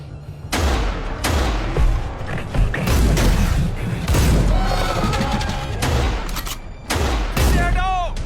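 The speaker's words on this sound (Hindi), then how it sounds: "कवर फायर दो।" Heavy cover-fire gunfire in the video game Battlefield 2022, dense bursts of loud rapid shots and booms with mechanical clatter filling the scene, briefly broken by pauses, with some voice-like tones mixed in.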